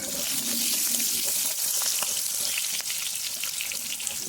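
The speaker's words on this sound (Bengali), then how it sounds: "ভালো করে নাড়িয়ে চাড়িয়ে নেবেন যাতে ক্যাপসিকামগুলো একটু ভাজা ভাজা হয়" Chopped capsicum fries in oil in a kadai for kadai paneer, a steady close hiss of sizzling with a few light clicks of stirring.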